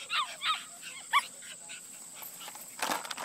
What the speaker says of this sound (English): And get a bark.